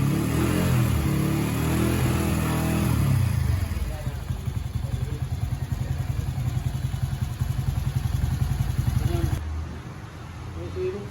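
An upgraded Honda CT125 motorcycle with a new engine and twin oil coolers runs after being started, a steady close mechanical drone with rapid ticking clatter that settles to a lower idle, with talk over it.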